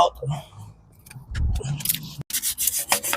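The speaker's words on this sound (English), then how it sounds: "Use a little bit of sandpaper just to clean any grease or oils on top" Sandpaper rubbed over a pool pump pipe to scrub off grease and oil, heard as a few quick, rough scraping strokes up close, with a person talking before them.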